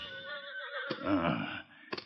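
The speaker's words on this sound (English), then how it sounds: "Me hear horses." A horse whinnies in a rising, wavering neigh that breaks into snorting bursts, fairly close and clear, in an outdoor creekside setting.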